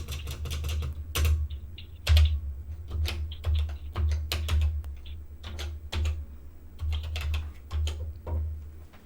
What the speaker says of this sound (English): And trying to type on a CoCo keyboard.